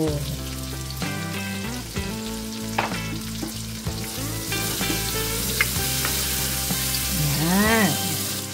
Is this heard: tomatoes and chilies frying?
yes